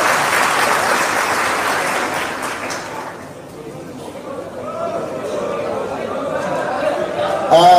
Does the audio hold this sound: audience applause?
yes